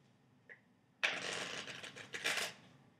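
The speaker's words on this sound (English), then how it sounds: "I'll even give it one more quick rifle shuffle." A deck of playing cards gets a quick rifle shuffle: a soft tap, then a brisk, loud ripple of fluttering cards lasting about a second and a half, ending in a short flurry, with no voices.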